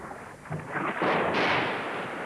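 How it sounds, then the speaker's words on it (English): Artillery shell fire hitting a town during the Bosnian-Croatian war in 1995, a distant rumbling blast that swells and rolls on as a long, heavy boom with no speech. "The town has been under almost constant shell fire since first light."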